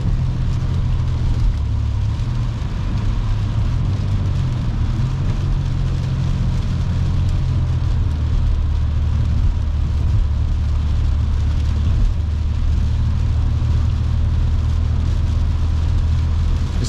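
A car is driving on a road, heard from inside the cabin. A steady, loud roar of tyre and engine rumble continues unbroken throughout, with a constant wash of road hiss and no talking.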